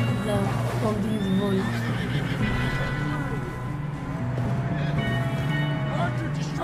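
A horse in Red Dead Redemption 2 neighs and whinnies loudly, several times in a row, alongside clip-clopping hooves and game sounds, with a person talking over it.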